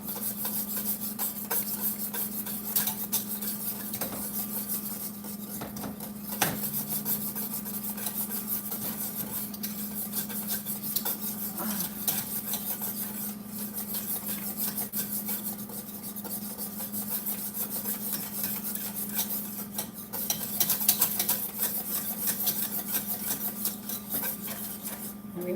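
A whisk works lumps out of polenta in a pot, giving a continuous scraping, rasping rub with a steady low hum beneath and a few brief louder knocks against the pan; no one speaks.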